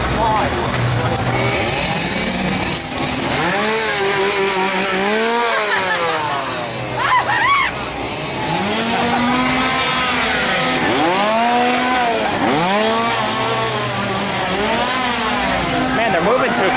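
Chainsaws at a Halloween Horror Nights haunted attraction rev over and over in loud rising and falling whines, close by and constant, layered with crowd voices and shrieks.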